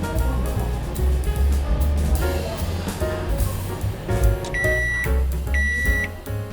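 A microwave oven hums steadily nearby, then gives a few short, high electronic beeps near the end.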